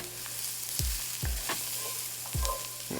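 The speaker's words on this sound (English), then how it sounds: "Good stir to get everything coated and get that flour start getting on the heat" Flour roux cooking in a pan for green bean casserole, with a soft steady sizzle broken by four deliberate stirring scrapes, close and fairly quiet.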